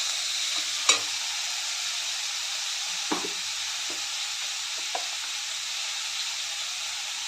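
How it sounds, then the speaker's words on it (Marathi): Colourful mixed vegetables stir-fried in a hot pan for veg hakka noodles, a steady loud sizzle with a few sharp clinks and scrapes of the spatula tossing them. "मस्त असे कलरफुल भाज्या आहेत, चांगलं परतून घ्यायचं आहे."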